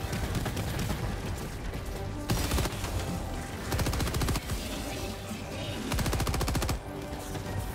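Rapid automatic gunfire in Helldivers 2 shooting enemies, sustained loud bursts rattling in quick succession with short pauses between volleys.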